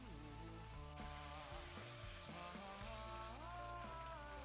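Vegetables stir-fried in a wok with soybean paste, pepper, light soy sauce and oyster sauce, a steady close sizzle with shifting scraping and stirring, continuous and fairly quiet with no talk.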